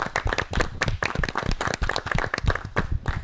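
A crowd claps in dense, lively applause throughout, loud and close, with no voices standing out.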